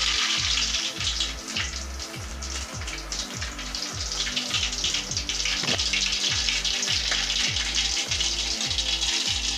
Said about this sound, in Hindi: अब इसमें हम राई जीरे का तड़का लगाएंगे